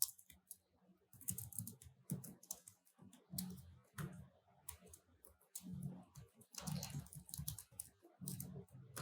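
Code being typed on a computer keyboard: irregular bursts of quiet, close key clicks with short pauses between runs, no talking.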